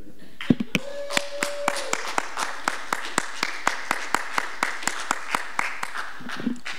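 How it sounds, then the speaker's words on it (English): A church congregation claps for Adelia during a sermon and worship service, with a steady run of sharp, fairly close claps lasting several seconds and a brief sustained tone and murmurs mixed in. "we have to give a round of applause for Adelia"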